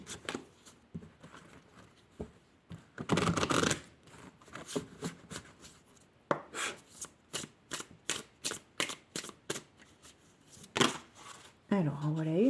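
Oracle cards shuffled and drawn by hand, a run of quick crisp riffling and slapping bursts in uneven clusters, close and fairly quiet, with a few brief soft noises between.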